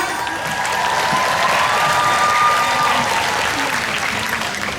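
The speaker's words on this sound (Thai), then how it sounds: "ขอเสียงปรบมือฮะ" Dense, sustained applause from a crowd at a fan meeting in Bangkok, a steady roar of many hands that holds throughout, with faint voices and a thin tone above it.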